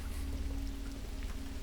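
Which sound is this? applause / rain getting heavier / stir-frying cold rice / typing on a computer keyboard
rain getting heavier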